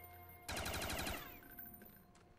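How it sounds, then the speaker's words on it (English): A loud gun in Black Ops Custom Zombies fires a rapid burst of shots lasting under a second, then a brief tail of clinks and game effects follows, with no speech. "why is this gun so loud, dude?"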